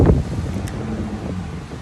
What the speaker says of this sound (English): sitting out here in the wind